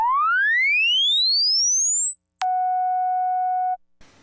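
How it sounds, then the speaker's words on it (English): A self-oscillating filter on a Minimoog synthesizer produces a pure whistling tone that sweeps smoothly upward, then drops suddenly to a lower steady pitch, holds for over a second and cuts off, followed by a faint click. "Since we got the filter self-oscillating, I'll show you that."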